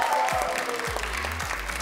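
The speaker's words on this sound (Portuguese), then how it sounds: "salva de palmas para Guzang!" Audience applause for team Guzang at a live game-show competition, a steady wash of clapping throughout with low voice-like tones sliding underneath.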